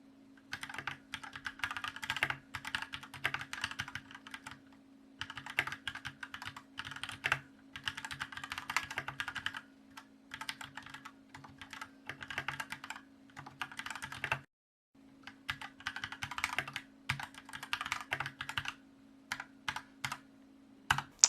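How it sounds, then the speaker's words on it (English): Steady clatter of typing on a Cooler Master CK721 60% wireless mechanical keyboard in bursts with brief pauses, close and clear, over a constant low electrical hum; no talking. "I've got a couple samples here of typing on the keyboard."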